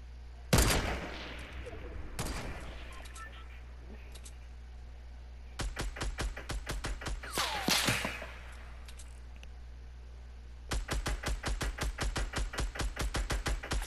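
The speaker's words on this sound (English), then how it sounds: "That's just me shooting at him." Video game gunfire crackles in bursts: a few single shots early on, then long rapid strings of automatic fire, sharp and close, with players chatting between the volleys.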